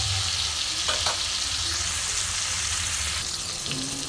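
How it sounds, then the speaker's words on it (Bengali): Cauliflower, pointed gourd and pumpkin pieces frying slowly in a pan until reddish, a continuous dense sizzle with occasional light stirring clinks, no talking. "তো আমি আস্তে আস্তে এগুলোকে ভেজে নিই সবজিগুলো।"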